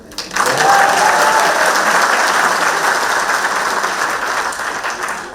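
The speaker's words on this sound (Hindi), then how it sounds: "आपके लिए ताली बजाता मैं" Audience applause at a leadership talk, a dense wash of many hands clapping that starts abruptly and stays loud and steady throughout, fading only slightly near the end.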